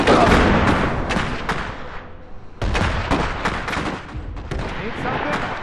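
Battle gunfire and artillery-like blasts in the Iron Harvest campaign defending Zalesie, dense and loud throughout with a brief lull midway, voices shouting over the combat.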